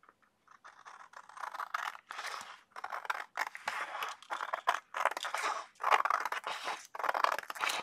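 Scissors trim scrap paper off the bottom of a calendar page, a close series of crisp crunching snips in uneven bursts with short pauses between cuts.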